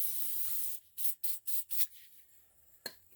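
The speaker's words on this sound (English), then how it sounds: "spray it with a blaster" An aerosol penetrating oil sprays onto a sensor on a Subaru in a quick series of short hissing bursts, then one final brief spray after a pause.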